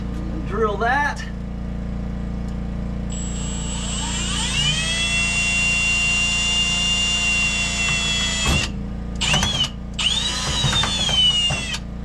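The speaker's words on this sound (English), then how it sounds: "Drill that." Power drill boring through a Chevelle body mount, a steady high whine that winds up and holds for several seconds, stops, then bursts again briefly with short restarts, close and loud over a low garage hum.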